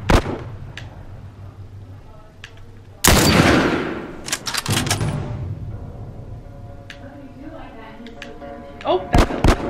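Gunfire in The Last of Us video game: sharp shot bursts and a sustained loud volley, with clicks and impacts between them and a player's voice under the game sounds.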